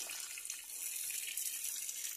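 Water is poured to drench the soil of a potted aglaonema, making a steady, quiet gush and trickle with no pauses and no voices.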